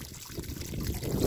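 Water drains from a camper's RV water heater, a continuous trickling pour that runs steadily and close by, growing slightly stronger toward the end, with no talking.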